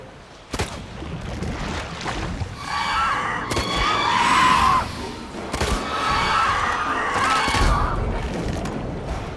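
Shrill, wavering screeches of a siren monster in The Witcher 3: Wild Hunt rise in two long bursts over a noisy, chaotic background with sharp bangs, sounding like a monstrous creature wailing.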